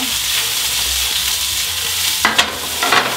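Shallots sizzle in a hot pan, a steady frying hiss, and then a few sharp scraping stirs break in near the end. No voices are heard.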